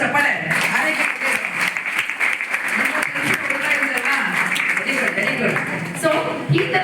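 Applause breaks out in a government first-grade women's college classroom after a student's welcome speech, sustained clapping with voices talking over it.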